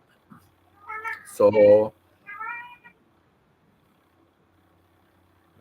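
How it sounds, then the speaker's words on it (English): A house cat gives a few loud, close meows, one drawn-out and strained, with short pauses between them and near silence afterward; a single spoken word comes just before. "these cats really play up."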